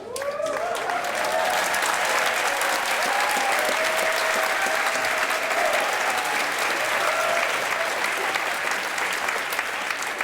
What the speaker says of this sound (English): let me please ask that we do our best to applaud each and every one of the mid-year completers